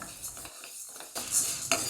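Soft scraping and rustling of a spoon stirring dry green gram roasting in a hot pan, with a faint sizzle and an occasional light metallic clink.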